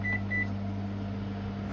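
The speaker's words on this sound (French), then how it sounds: "le micro-ondes en route" A microwave oven runs with a steady low electrical hum, opening with two brief beeps as it is switched on, in a home powered by solar panels and a battery; no one speaks.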